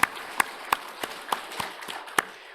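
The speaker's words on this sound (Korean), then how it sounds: "우리 한번 격려의 박수를 드리겠습니다." A church congregation claps sharply in a steady, evenly spaced rhythm, about eight claps, crisp and fairly near in a quiet room.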